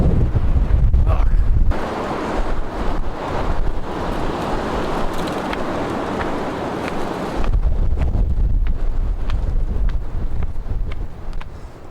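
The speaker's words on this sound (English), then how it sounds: "It's a strong wind." Strong wind roars and buffets a microphone outdoors at a building site, heavy rumbling gusts rising and easing throughout, with a person speaking briefly under it.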